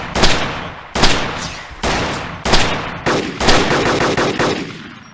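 Bursts of machine gun fire in the survival shooter game DayZ Overpoch, around half a dozen loud, sharp volleys spaced roughly a second apart, the later ones running into rapid sustained fire.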